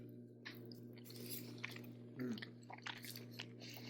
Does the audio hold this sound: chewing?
yes